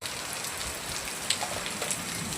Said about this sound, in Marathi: अचानक एवढ्या जोरात पाऊस चालू झाला ना, तर भरपूर पाऊस चालू झाला.